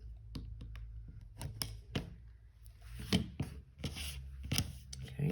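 Rotary cutter or trimming blade slicing quilt fabric units along seam lines on a cutting mat, a series of sharp, quiet cuts and taps with soft rubbing between, close and faint, with someone speaking over parts of it.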